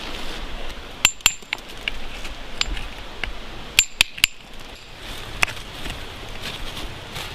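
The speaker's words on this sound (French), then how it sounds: "C'est plus la pelle, c'est le burin." A hammer strikes a chisel into slate rock while prospecting for gold in Finistère, giving sharp metallic clinks, single and in quick groups of two or three, over low outdoor background noise.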